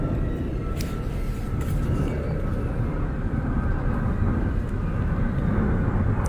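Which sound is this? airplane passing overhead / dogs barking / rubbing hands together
airplane passing overhead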